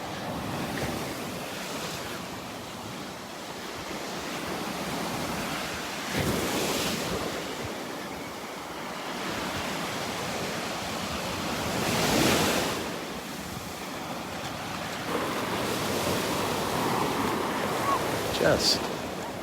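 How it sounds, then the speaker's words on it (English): Gulf waves wash onto the beach at Delnor-Wiggins on a breezy morning, gentle surf swells rising and receding every few seconds under steady wind noise on the microphone. "A little wave action, the sounds of the waves."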